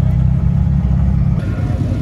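A 660whp Mitsubishi Evo 9 at a dragstrip holding a steady, loud, close engine roar for a 3,500 RPM mini launch.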